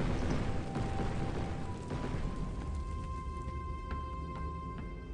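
An explosion in the video game Ziggurat gives a loud, dense rumbling roar that fades over a few seconds, with crackling bursts and tonal game effects following it, and no talk.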